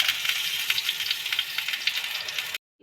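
Paddu batter sizzling in a hot oiled paddu pan, a steady close hiss with crackling spits that runs without pause, then cuts off abruptly at the end.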